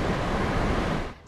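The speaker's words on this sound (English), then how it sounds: "What's normally a beautifully clear waterfall is raging and brown after storm runoff." Wailua Falls on Kauai, swollen and brown with storm runoff after heavy rain, gives a loud, steady broadband roar of rushing water that fills the clip before easing near the end.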